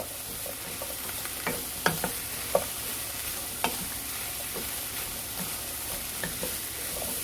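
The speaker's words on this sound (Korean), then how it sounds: "양파를 볶아주면은 양파에 예, 향이 살아있어서 고기랑 같이 좀 충분히 볶아줍니다." Onions and meat stir-fry in a pan for curry rice under a constant soft sizzle, and the stirring utensil scrapes and taps against the pan at irregular moments.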